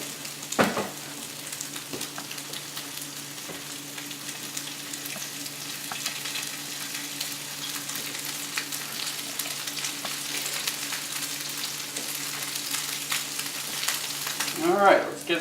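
Couscous cakes, spooned and flattened into a pan, fry with a steady soft sizzle throughout, a constant low hum underneath and a brief clatter near the start and end.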